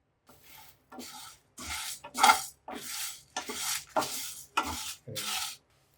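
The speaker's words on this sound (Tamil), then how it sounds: "ஒரு பேன் வச்சு நம்ம எடுத்து வச்சது எல்லாத்தையுமே சேர்த்து தான் வறுக்க போகிறோம்" Whole spices dry roasted in a pan for sambar, stirred in about eight regular scraping and rattling strokes, close and clear with short gaps between them.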